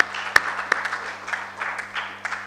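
Audience applause for a team fills the room, a brief burst of scattered clapping with a few sharp nearby claps over a low hum, fairly moderate in level and without talking.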